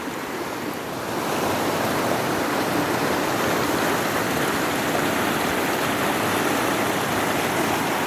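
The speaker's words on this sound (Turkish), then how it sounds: "Burada da güzel deremiz var" Creek water flowing steadily beside a large old hollow tree, a broad continuous rushing wash that swells after the first second and stays loud and even, with no voices.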